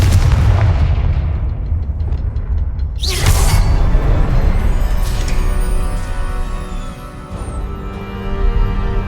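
Confringo explosive spell blast in the Hogwarts Legacy video game: a loud booming impact with a sharp burst about three seconds in, followed by a rumbling, crackling tail and sustained low roar that stays heavy to the end.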